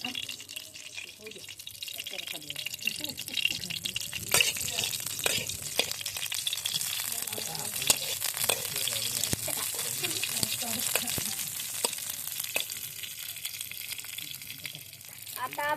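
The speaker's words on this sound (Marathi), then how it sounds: "चला आता आपण फ्राय करूयात" Idli pieces fry over a wood-fired chulha with a soft continuous sizzle and occasional stirring clinks, fairly quiet, while a voice talks throughout.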